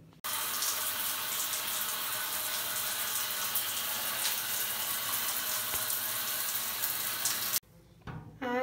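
Water runs steadily from a shower during bathing, a loud continuous hiss that holds for several seconds before cutting off abruptly, followed by faint dripping.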